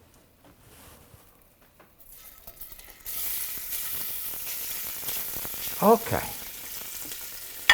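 Sausage for zuppa toscana drops into a hot pan, then a loud, steady sizzle rises suddenly and holds, with a brief stirring clatter near the end; one short spoken word comes early.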